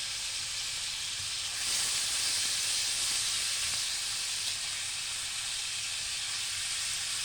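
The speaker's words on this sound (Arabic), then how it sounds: "وعايزين التوابل بتاعتنا دي، الفلفل والسبع بهارات، تتحمص مع اللحمة بتاعتنا" Meat toasting in a hot pot with black pepper and seven-spice mix for a vegetable-and-meat stew, giving off a steady, even hiss of sizzling that stays loud and constant throughout.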